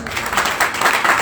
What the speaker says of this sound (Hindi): इनके लिए जोरदार तालियां बजाएं